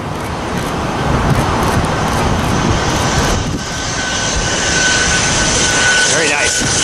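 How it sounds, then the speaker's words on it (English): A private jet on approach to land at LAX, its engine roar a steady, loud wash that swells near the end, mixed with road traffic noise at an airport spotting location. "Here comes another private jet coming into LAX."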